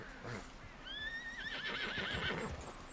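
A horse whinnies in an open-world Western video game, a high wavering neigh rising and trembling for about two seconds over soft hoofbeats and ambient game noise.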